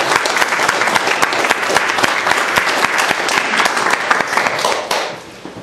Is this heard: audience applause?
yes